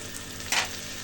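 Fried chicken pieces tipped into a hot wok for chicken corn soup, giving a brief burst of sizzling over a steady background frying hiss.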